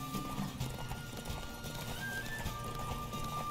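Galloping hooves drum rapidly in The Witcher 3: Wild Hunt over a dense, droning game soundtrack, with a horse neighing faintly in the mix.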